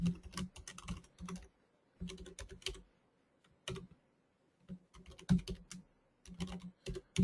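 Typing on a computer keyboard while logging in with a username and password, heard as close, crisp key clicks in several quick bursts separated by short pauses, with no talking.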